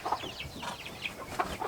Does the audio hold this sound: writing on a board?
no